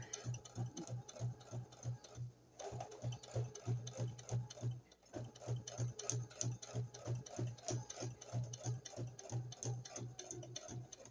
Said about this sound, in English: You have to put your presser foot back down and then sew along the edges